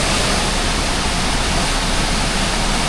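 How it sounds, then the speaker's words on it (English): Loud, constant rushing roar of a waterfall, a dense steady wash of sound with no breaks or voices. "Look at that for a waterfall, boys."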